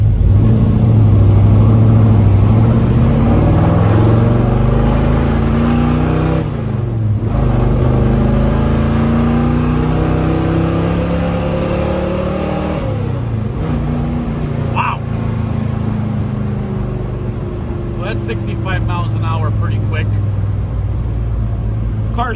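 A 1967 Chevrolet Chevelle SS396 V8 revs repeatedly, deep rumbling idle rising into several throttle blips and falling back, loud and close, with someone talking over it.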